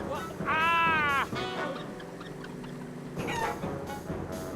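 Chickens in a Wallace and Gromit cartoon cluck and squawk, with one loud, warbling, drawn-out call up front and more clucks later over a busy background.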